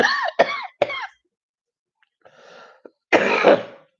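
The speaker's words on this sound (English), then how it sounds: "Just cough a couple times." A few sharp coughs from allergies come close together, then a pause, a softer raspy throat sound, and one more harsh cough.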